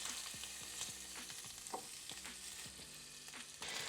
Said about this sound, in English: Now we're gonna keep cooking the heads.